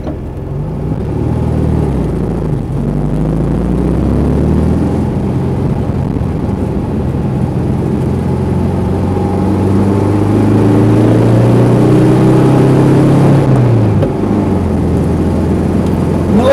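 A 1968 VW Karmann Ghia's engine pulls hard in second gear, a loud close drone that rises steadily in pitch, then drops off near the end of the run, with no voices.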